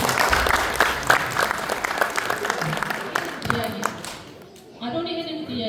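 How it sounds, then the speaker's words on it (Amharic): An audience at a children's church quiz competition applauds a young girl's answer, with dense clapping in the first half that thins out while a voice talks over and after it. "አጨብጭቡላት ተቀመጡ"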